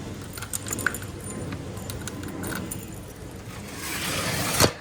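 Keys jangle close by while a front door is locked on the way out to an imambargah in Canada, a bright metallic rattle building toward the end with a sharp final clink.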